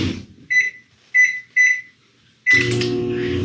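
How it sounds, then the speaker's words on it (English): A microwave oven gives three short electronic beeps, then starts up with a loud, steady hum and whir that runs without a break to the end. "stick it in the microwave for 5 minutes"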